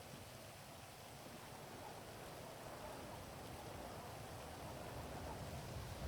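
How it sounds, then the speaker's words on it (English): Steady, broadband wash of rain at a moderate, distant level, unbroken for the whole stretch with no voices over it. "Loud. Rain is loud."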